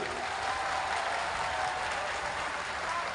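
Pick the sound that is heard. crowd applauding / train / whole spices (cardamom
crowd applauding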